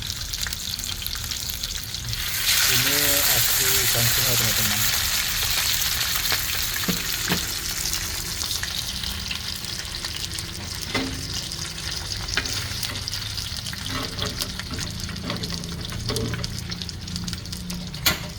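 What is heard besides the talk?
river fish with scales sizzling in a wok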